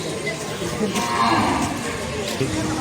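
A cow bought for Qurbani moos in a busy livestock market, a drawn-out low call rising over the crowd noise in the middle of the clip, with people talking nearby.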